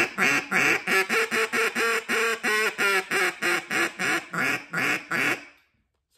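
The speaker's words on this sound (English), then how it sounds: "So it's a raspy call, super raspy. Reed's a little bit too long." Homemade duck call with a slightly too-long reed blown in about fifteen quick, evenly spaced raspy quacks, loud and close, ending abruptly in silence.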